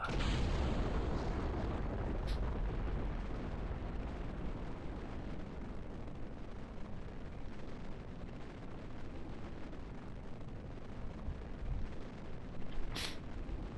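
A rocket lifting off toward orbit in Kerbal Space Program, a loud, sustained rumbling roar of engines that stays dense and steady throughout.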